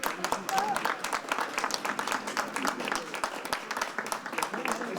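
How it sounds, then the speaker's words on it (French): An audience applauds a seamstress at a Manneken-Pis costume presentation for Europe Day, with a steady patter of clapping throughout and voices talking over it. "Viens ici, viens qu'on t'applaudisse."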